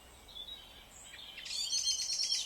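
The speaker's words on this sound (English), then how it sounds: "there's one after arriving, a blackbird." A blackbird sings in Kylemore wood in the evening, its thin whistled notes faint at first and then a brighter, busier burst of chattering song, somewhat distant over a quiet woodland background.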